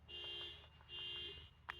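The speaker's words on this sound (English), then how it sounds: "that's somebody's car alarm" A car alarm goes off outside, its electronic tone cycling in steady repeating bursts, faint and distant, with a brief sharper chirp near the end; no one speaks.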